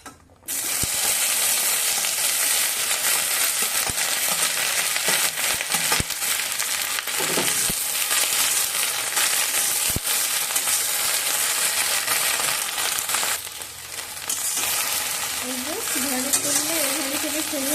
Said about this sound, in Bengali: কড়া গরম করে নিয়ে তেল দিয়ে প্রথমে ঢ্যাঁড়সটা ভেজে নেব